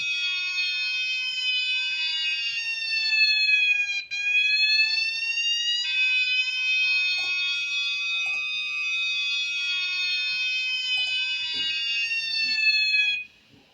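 A loud electronic buzzer tone from an Arduino sweeping in a siren-like pattern, rising and falling steadily, continuous and piercing with no other sounds.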